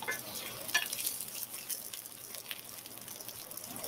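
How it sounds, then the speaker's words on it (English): Meatballs searing in a pan after being turned over, a soft steady sizzle with faint crackles and a small clink near the start, fairly quiet and without talk. "Seared one side, then I'm going to sear the other"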